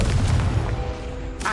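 A Confringo blasting spell goes off in Hogwarts Legacy, a dense low boom filling the whole moment with rumbling force and a brief sharper crackle near the end; no voices alongside.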